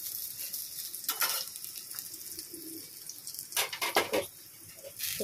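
Mustard paste hits a hot frying pan and sizzles in a steady crackling hiss, with a few louder bursts of spatter and stirring; no one speaks.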